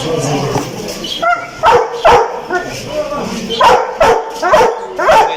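A dog barks repeatedly in short, loud bursts close by, with a few yips between, while people talk in the background at a dog market in Casablanca.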